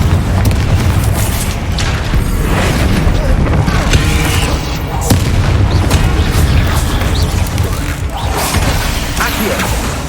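Confringo fire spell explosions in Hogwarts Legacy, a series of loud booming blasts and crackling bursts layered over game ambience, with repeated thumps across the span.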